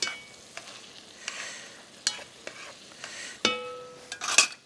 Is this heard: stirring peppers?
yes